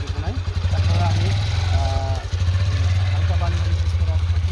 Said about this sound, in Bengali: তা আমি গাড়িটি স্টার্ট করছি